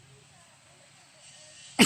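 A quiet room hum, then a single sharp cough bursts out near the end, close and loud.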